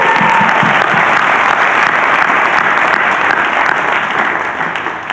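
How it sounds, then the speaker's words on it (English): Loud, dense applause from an audience at a youth panel on opioid abatement in Colorado, a steady wash of many hands clapping that holds for several seconds before easing slightly at the end. "one more quick round of applause"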